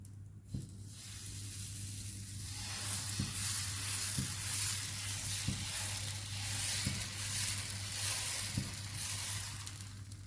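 Dosa batter sizzles on a hot pan, a steady close hiss that runs throughout with regular faint taps every second or so.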